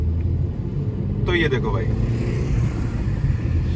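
A Hyundai Grand i10 Nios pulls hard at full throttle in second gear, engine rumble steady and near throughout, with someone speaking briefly over it.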